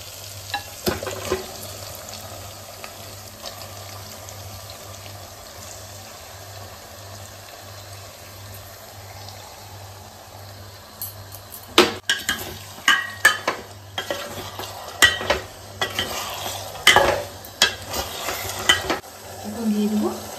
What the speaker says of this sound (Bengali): এখন এর মধ্যে দিয়ে দেবো ম্যারিনেট করা মাটন।